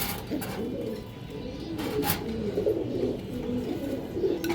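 Several breeding pigeons and their chicks coo close by in soft, rolling low calls that overlap continuously, with a few brief rustles and flutters in between.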